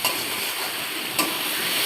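A vegetable bhaji being stirred in a pan gives a steady, close sizzle, with a brief scrape of the spoon about two-thirds of the way through.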